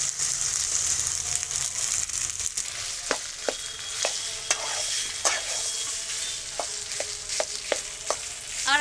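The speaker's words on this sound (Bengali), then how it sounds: "এবারে আলুগুলো আমি একে একে কড়াই দিয়ে দেবো।" Boiled potatoes frying in a wok, a constant loud sizzle close by, broken by repeated sharp clicks and scrapes of a spatula stirring against the pan at an irregular pace.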